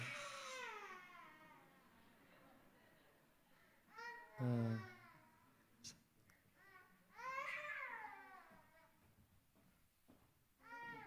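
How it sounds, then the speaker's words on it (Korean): Baby cries and babbles in a church during an infant baptism, with short wails and cooing rising at intervals between quieter stretches of room tone. "응애 하는 소리가 아멘 하는 소리를 들었습니다."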